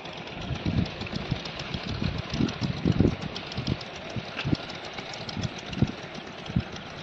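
An engine idling with a steady rumbling throb and irregular knocking pulses, close and moderately loud, running throughout.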